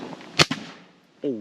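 An Umarex TR50 air rifle fires at a bottle outdoors: a sharp pop followed almost instantly by a second crack of the hit. A voice speaks briefly after the shot.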